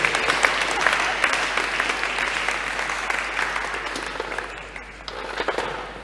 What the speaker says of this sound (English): What about a round of applause for these amazing people?